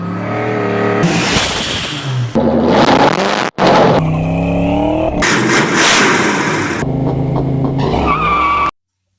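A supercharged 408 Cleveland V8 in a 1986 Foxbody Mustang revs hard and loud with screeching tire skids, the roar cutting out briefly and returning in several bursts before stopping abruptly.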